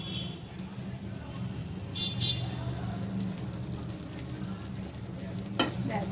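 Spice masala with garam masala powder fries and gets stirred in a pan, a soft continuous sizzle with scraping stirs and a sharp clink near the end.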